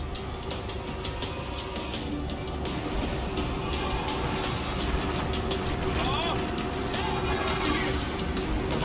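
Train moving in the World War Z: Aftermath video game, a continuous mechanical rumble with rattling and clanking that runs under the players' voices throughout.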